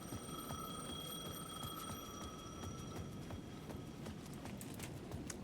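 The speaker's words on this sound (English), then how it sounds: "The payphone at the edge of the plaza was ringing again." A payphone rings repeatedly in Alan Wake 2, a faint bell-like trill recurring in regular bursts over a low background rumble and footstep-like clatter, with no talk.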